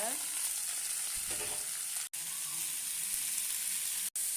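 Mixed chutney ingredients sauté in a pan, a steady soft sizzle with faint stirring sounds and two brief cuts to silence.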